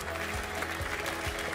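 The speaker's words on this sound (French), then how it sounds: "on peut les applaudir, ces 23 équipages catégorie IMOCA" Brief, dense burst of audience clapping at a Transat Jacques Vabre press conference, greeting the IMOCA sailing crews, even and fairly loud with no voices.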